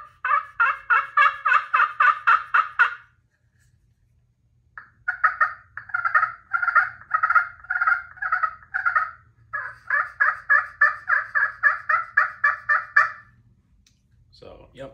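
A turkey pot call worked with an Osage iron striker: a deep, raspy series of rapid yelps in several bursts, each a run of evenly spaced clucking notes, close and clear with pauses between runs.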